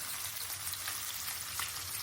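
Garlic frying in oil for a pomfret pepper fish fry, a soft, continuous close sizzle with fine crackles and no other sounds.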